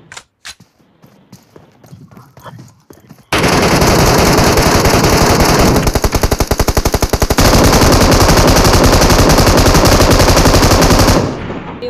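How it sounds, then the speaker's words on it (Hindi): An M249 machine gun in PUBG fires long sustained bursts, loud and close, after a few sparse shots, with the rapid rattle running nearly nonstop until it cuts off at the end. "भैया पूरी M249 छेद दी, बंदे नहीं मारा भैया, पूरा गेट तोड़ दिया"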